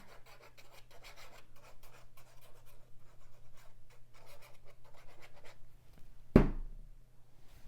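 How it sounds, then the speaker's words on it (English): Steady rasping strokes of an X-Acto knife drawn along a ruler to trim paper for a Christmas mini album, close and repeated, ending in a sharp louder knock near the end. "Trim it with my X-Acto knife and my ruler."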